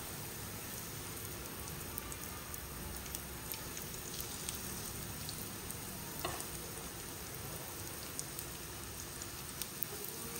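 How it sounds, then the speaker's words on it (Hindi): Goan beef cutlets fry in hot oil, making a faint, even sizzle with a scatter of soft pops and crackles throughout and no voices. "तेल तापले म्हणटकच न्हू ते कातलेशी तितून घालपाचे आनी फ्राय करपाच्यो"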